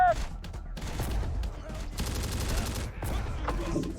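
Rapid gunfire bursts and volleys crackle in the Terminator Dark Fate Defiance video game, with dense automatic fire and heavy impacts overlapping almost continuously.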